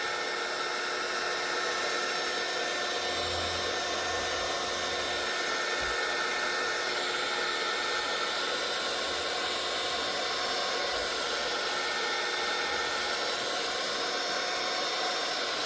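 A steady, loud blowing roar of hot air from a heat gun passed over resin, continuous hiss with a low hum, no voices.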